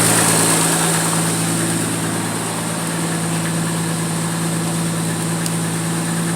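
A 1974 Plymouth Duster engine idles steadily, a close, even low rumble with a constant mechanical hum and no revving.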